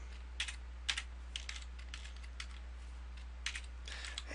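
A computer keyboard is typed on in sparse, irregular clusters of keystrokes, close but quiet, over a steady low electrical hum, with no talking.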